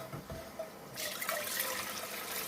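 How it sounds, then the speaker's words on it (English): Water pours into a saucepan for hollyhock jelly, a steady faint splashing stream starting partway through and continuing to the end, alone without talk. "I'm just going to add a little bit more water because it smells pretty strong"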